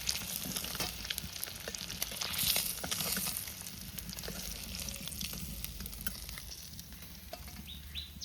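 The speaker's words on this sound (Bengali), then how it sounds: "মাছ সুন্দরভাবে ভাজা হয়ে গেছে" Shol fish (snakehead) sizzles and spits steadily in hot oil in a pan for the whole stretch, close and fairly loud, with stirring clatter and faint bird chirps in the background.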